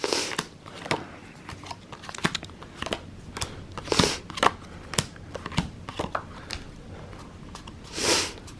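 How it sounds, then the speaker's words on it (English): Playing cards being sorted into black and red piles make soft snapping, sliding flicks at an uneven pace, close by, with a few louder brushes of cards. "you need to get out the black cards into one pile, and the red cards into another pile"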